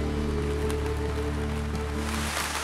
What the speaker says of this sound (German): Jeden Tag regnet es 10 Minuten, so wie jetzt.